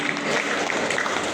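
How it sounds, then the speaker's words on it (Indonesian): Church congregation clapping in steady applause during a sermon, a continuous patter of many hands in a reverberant hall. "tepuk tangan"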